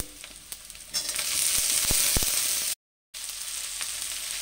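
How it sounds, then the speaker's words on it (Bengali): Grated coconut and tomato sizzle steadily in a hot pan while being stirred, a close, bright crackling frying sound with scraping strokes and a brief dropout. "নারকেলটা দিয়ে 2-1 মিনিট নাড়াচাড়া করে এবার টমেটো দিয়ে দিচ্ছি।"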